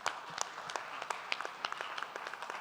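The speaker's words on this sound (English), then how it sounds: "I would like to have a round of applause for that." Conference audience applauds a panel on sustainable energy infrastructure standards: scattered, fairly quiet clapping from a modest crowd, individual hand claps standing out in an uneven patter throughout.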